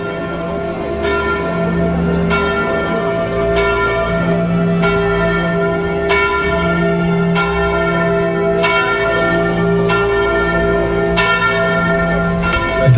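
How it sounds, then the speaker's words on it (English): A church bell on Porto Santo tolls in slow, evenly spaced strokes, each clang ringing out over a sustained low hum, loud and clear throughout. "the church bell announces the approach of an imposing ship"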